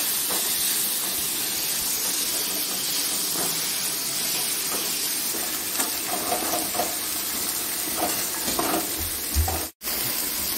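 Mackerel and onions fry on a banana leaf in a pan, a steady loud sizzle and hiss throughout with small crackles, and a brief dip near the end.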